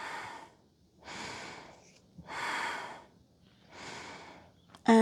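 Slow, deep breaths drawn in a yoga pose, with three long airy exhalations in a steady rhythm separated by short pauses. The breathing sounds close and moderately loud, and a brief sharp knock comes right at the end.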